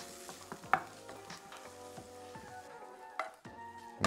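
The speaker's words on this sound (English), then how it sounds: "stir them nicely so they're gonna absorb the butter" Mushrooms are stirred in melting butter in a pan over low heat, soft sizzling with scraping stir strokes and light utensil clicks, close up and without talk.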